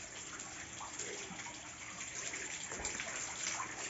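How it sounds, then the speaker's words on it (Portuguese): Small decorative waterfall at a hotel farm decorated for Halloween, giving a steady, close splashing rush of falling water that runs unbroken throughout with no talk over it. "uma cascata"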